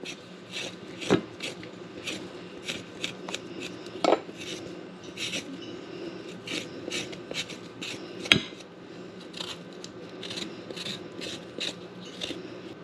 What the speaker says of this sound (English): here I'll show you an easy way to peel this ginger. Just take a spoon and you just pull it down